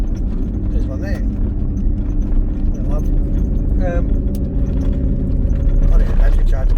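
A car passes on a rural road in the Waratah area of Tasmania, its engine and tyre noise swelling steadily from a near vehicle while people talk over it.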